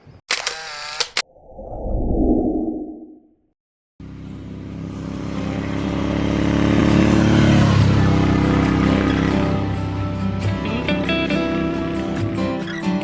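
After a few quick camera shutter clicks and a short silence, a Royal Enfield 650 twin-cylinder motorcycle engine (Continental GT 650 or Interceptor 650) starts up and rumbles loudly up close, swelling as it revs and then settling into a steady idle.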